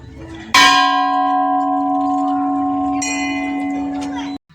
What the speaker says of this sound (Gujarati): વિશાળ ઘંટ લગાડવામાં આવેલો છે જોઈએ કેવોક વાગે છે